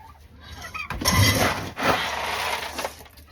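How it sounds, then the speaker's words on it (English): Turkeys on a farm give a burst of loud, rough gobbling and clucking calls close by, rising suddenly after a quiet start and continuing in uneven bursts. "Oh, I'm being invaded by turkeys."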